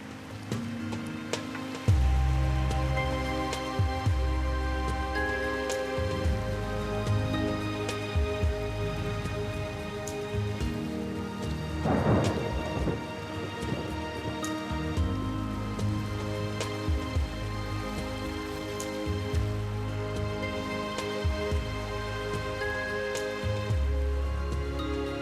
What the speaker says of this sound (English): A storm always brings a bit of coolness.